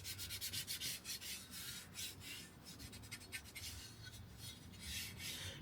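A cloth rubs alcohol over a Royal Enfield Hunter 350 motorcycle tail tidy, giving a steady, close scrubbing rasp in quick repeated strokes that goes on throughout with no talking.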